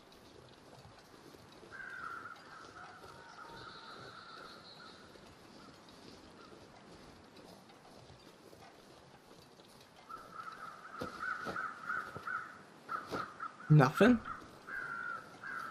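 Crows cawing in the wilderness of the survival game The Long Dark: a few hoarse caws mid-distance among wind ambience, with someone talking over part of it.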